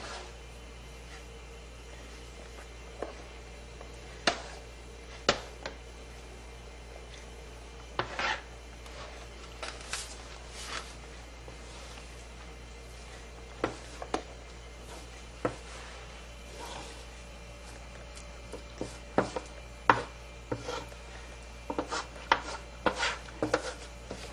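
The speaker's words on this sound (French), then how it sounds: "On rajoute notre riz par-dessus." Cooked rice is pressed and scraped into a mould with a utensil, giving scattered soft rubs and sharp little clicks and taps over a quiet background, close up and irregular.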